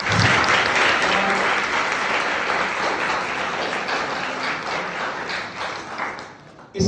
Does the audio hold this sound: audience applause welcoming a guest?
yes